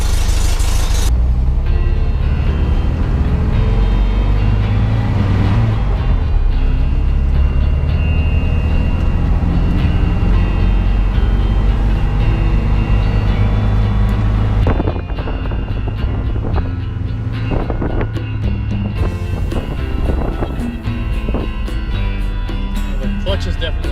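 A car engine runs steadily on a test drive with a clutch that catches high, a flywheel fault; the loud, constant rumble mixes with wind buffeting, eases slightly partway through, and voices come and go.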